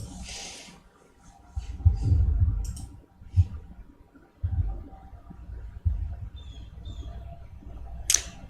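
A computer keyboard right beside the microphone gives off scattered clicks and dull thumps in irregular bursts, close and uneven, with a short sharp click near the end.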